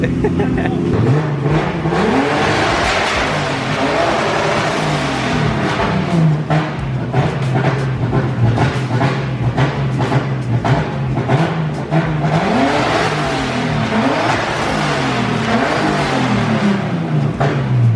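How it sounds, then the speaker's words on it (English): A BMW E36 M3's turbocharged engine revs hard again and again, its pitch climbing and dropping in loud repeated surges, close by and continuous throughout. "after hearing all these turbo noises, I kind of want a turbo now"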